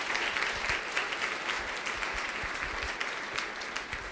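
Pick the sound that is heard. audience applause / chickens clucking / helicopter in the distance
audience applause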